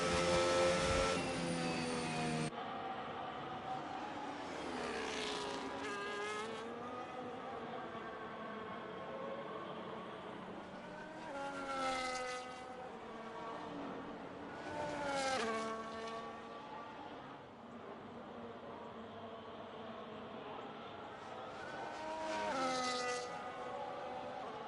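Race cars circulate on an Australian circuit in an Apex Performance Series preseason race: engines drone and rise in pitch as several cars sweep past at intervals under a steady wash of track noise.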